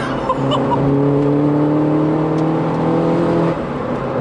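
A tuned Mini Cooper S R56 making about 285 horsepower accelerates hard, its engine note loud and close with a steadily rising drone for several seconds before easing off, heard from inside the car with no talk.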